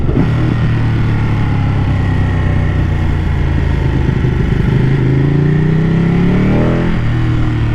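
A 2017 Ducati 959 Panigale sport motorcycle idles loudly up close, then the throttle is blipped into a rising rev that drops back to a steady idle.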